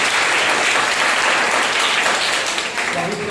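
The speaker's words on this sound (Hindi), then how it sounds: "एक जोरदार परमेश्वर के लिए ताली बजाइए।" A church congregation at a Sunday morning service breaks into sustained, dense applause, many hands clapping together loudly and evenly for several seconds.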